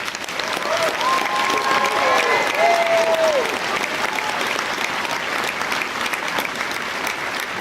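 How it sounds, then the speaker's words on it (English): Crowd applause at an army graduation ceremony: dense, loud clapping from a large audience, sustained throughout with a few cheers and whistles rising above it. "would you please join me in a round of applause for American Hero Center?"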